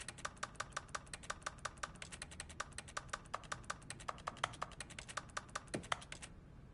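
Rapid, steady keyboard typing from the video game The Stanley Parable, a dense run of crisp key clicks at a fast even rhythm, close and fairly quiet, stopping abruptly near the end with no talk.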